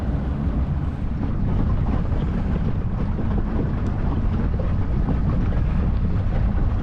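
A Stingray motorboat cruises at about 15 knots across the Solent on a calm, windless day, its steady engine drone and rushing water filling the whole stretch evenly and loudly with no break and no talk.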